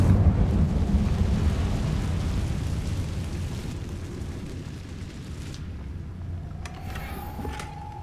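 A fire spell cast in the Hogwarts Legacy video game bursts out as a loud, rumbling roar that slowly fades over several seconds, ending in a thinner crackle.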